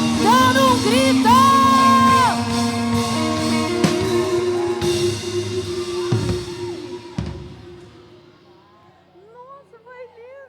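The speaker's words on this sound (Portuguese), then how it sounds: "aplauda Jesus, dando um grito" Church congregation clapping and shouting in praise while sustained music plays, a loud mass of cheers and whoops with clapping that gradually fades toward the end.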